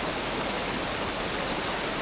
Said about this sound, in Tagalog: Masyadong malakas yung current na tubig.